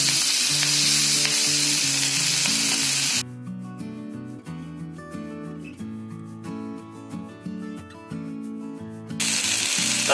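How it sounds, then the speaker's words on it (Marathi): Chopped spinach roasting in butter in a pan gives a bright, steady sizzle that is clear at the start and end and sits under music through the middle. "आता ह्याच्यात जरा मी पालक रोस्ट करणार आहे"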